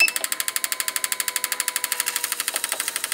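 A Porsche 911 3.2L engine runs in an idle test, producing fast, even, regular pulses that stay steady at close range throughout.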